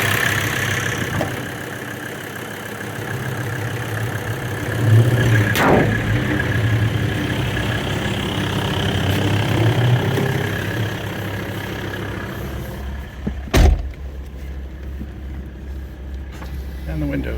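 A Mercedes turbo diesel swapped into a 1994 Toyota 4Runner idles with a steady low rumble, not yet warmed up, while a person talks over it and a few clunks sound near the end.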